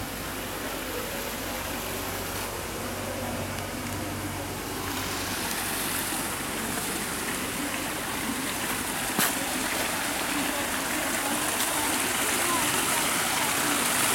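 An artificial waterfall built for ducks at a nature park gives a steady broadband rush of falling water. It stays close and even throughout and grows slightly louder partway through, with no clear talk over it.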